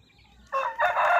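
A rooster crows close by, a sudden loud strained call broken into two bursts after a brief quiet start.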